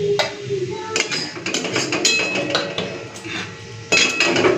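Metal and dish clinks while gravy is poured from a pan of cooked hilsa fish, a run of clattering scrapes and taps close by at steady volume, with a sharper burst near the end.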